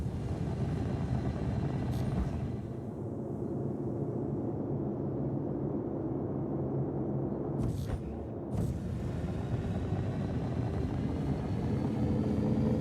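Steady, loud roar of a jet aircraft engine with afterburner in a video game, droning continuously with brief bursts of louder noise.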